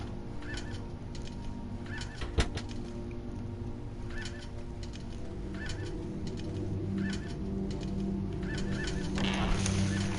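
Caged birds in the video game Indigo Prophecy, squawking and honking in a repeated pattern over a steady background hum, with one sharp click partway through.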